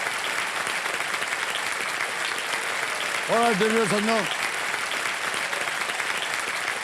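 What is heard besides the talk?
studio audience applause for Namish on KBC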